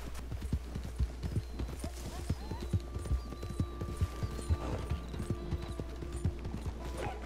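Horse hooves clip-clop in a steady walking rhythm, close and distinct, in the video game Red Dead Redemption 2, with a faint creak of tack and no talking.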